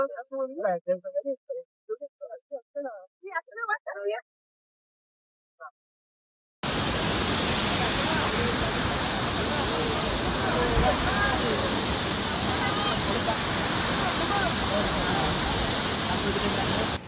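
Several seconds of scattered talk and silence, then a loud, continuous rushing of river water at Lata Medang, Kuala Kubu Bharu, Malaysia, fills the rest of the clip.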